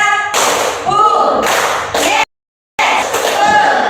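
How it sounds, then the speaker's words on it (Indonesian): A class of elementary schoolchildren claps in unison during a classroom ice-breaker, sharp clustered bursts falling on a spoken count, loud and close, with a teacher's voice between the claps. "tepuk satu, tepuk dua, tepuk tiga"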